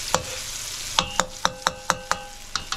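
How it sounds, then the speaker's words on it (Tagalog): A spoon stirs ginataan laing in a cooking pot, about a dozen sharp scraping clinks in an uneven rhythm over a soft simmer, close and clear with no talk. "Halu-haluin lang natin onte."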